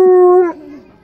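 An Alaskan Malamute lets out a single loud, close howl that holds a steady pitch, then drops and fades away within about a second.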